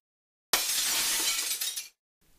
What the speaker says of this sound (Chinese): 他开车撞到旁边店家的玻璃。